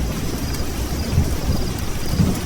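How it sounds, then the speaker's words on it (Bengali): A heavy thunderstorm at night with pouring rain, heard as a constant wash of rain noise and wind with a few low, muffled rumbles of thunder, fairly loud and with no talking. "মুষলধারে বৃষ্টি পড়ছে। ঝড়ে গাছগুলো দুমড়ে মুচড়ে যাচ্ছে। ঘন ঘন বিদ্যুৎ চমকাচ্ছে, আর গুড় গুড় করে মেঘ ডাকছে।"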